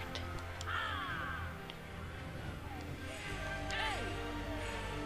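A crow cawing in the Assassin's Creed Revelations video game, several harsh caws in two bursts over game ambience and a low rumble.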